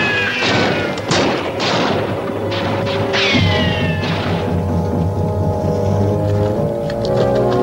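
Gunfire in an old dubbed western, several loud booming shots and thuds in quick succession up close, layered over a dense, sustained orchestral score without talk.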